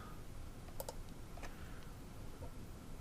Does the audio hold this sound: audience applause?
no